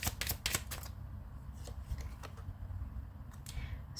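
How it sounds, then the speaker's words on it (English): Tarot cards being shuffled by hand, a quick flurry of soft riffling snaps at first, then sparse light card slaps and rustles, close and quiet with no talk. "As I'm shuffling this"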